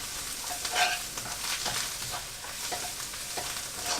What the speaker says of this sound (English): frying this until it's aromatic